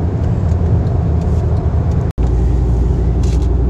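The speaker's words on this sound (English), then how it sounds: "just about every car out here is on the street right now" Steady street traffic on a busy Bay Area road, a continuous close rumble of car engines and tyres, loud and unbroken apart from a brief dropout midway.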